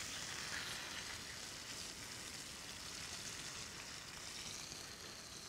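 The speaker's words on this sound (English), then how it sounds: "So now I'm gonna take my salmon, lift it up, and carefully turn it over." A salmon fillet searing in a hot pan after being flipped, giving a soft, steady, even sizzle with no talking.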